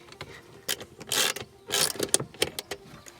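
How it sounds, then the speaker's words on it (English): A screw being fitted by hand during installation of a MINI JCW Pro rear diffuser, producing close, irregular clicks, ratcheting taps and plastic scrapes in short bursts. "You just put this screw in."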